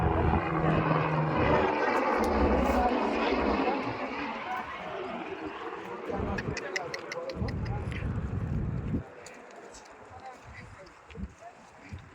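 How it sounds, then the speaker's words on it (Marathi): A helicopter's rotor thumps and drones loudly below on the Amarnath Yatra route, fading somewhat as it passes, with a person talking over it. "खालून हेलिकॉप्टर जाताना दिसतंय."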